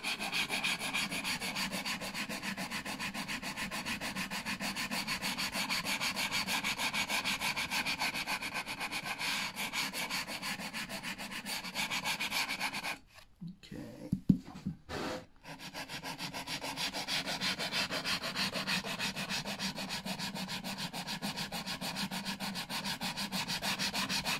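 Steady, continuous rasping of sandpaper worked by hand along the corners of a wooden keepsake box, close and even, with one brief pause partway through.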